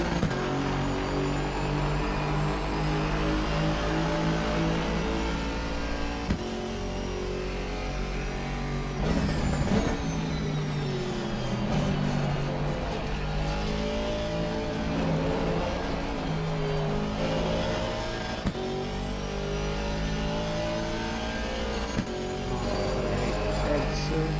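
A GT4 race car lapping in a racing video game, its engine droning steadily loud throughout, pitch rising and falling through gear changes and corners.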